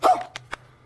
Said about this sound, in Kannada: ಇಲ್ಲಿ ಯಾವುದೋ ನಾಯಿ ನಿಂತೈತೆ ನೋಡಿ